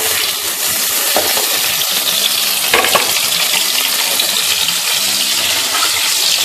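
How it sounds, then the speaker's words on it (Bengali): Whole cumin seeds, cardamom and cloves hit hot mustard oil in a kadai just used for frying prawns, bursting into a loud, continuous close-up sizzle with crackling pops throughout. "এবার ওই তেলের মধ্যে প্রথমে গোটা জিরে ফোড়ন দিয়ে দিলাম, এলাচ, লবঙ্গ"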